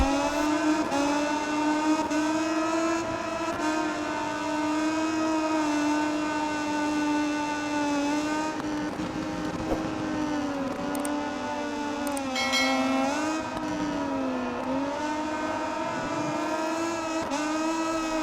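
A Moto2 racing motorcycle in the MotoGP 20 video game drones with a continuous high-revving engine tone, pitch wavering with throttle and gear changes, loud and close throughout with no talk.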